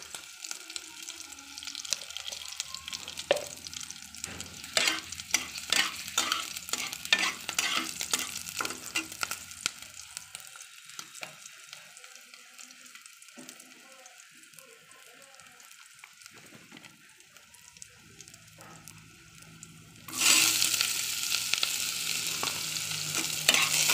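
Nigella seeds crackle and sizzle in hot oil with a busy scatter of stirring scrapes, the frying hiss easing midway and then surging loud again near the end.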